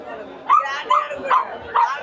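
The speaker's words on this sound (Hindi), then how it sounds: "इधर बहुत सारा कुत्ता देखिए" Dogs for sale at the crowded dog market of Sonpur Mela yip and bark in short bursts, four quick outbursts over about two seconds, with people talking underneath.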